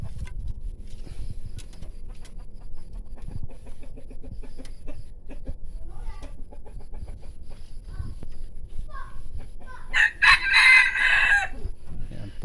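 A wild red junglefowl (labuyo) caught in the forest crows once, loud and close, near the end. Before it come faint clucks and scratchy handling noises over a quiet outdoor background.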